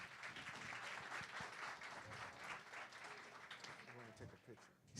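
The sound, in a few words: audience applause at a conference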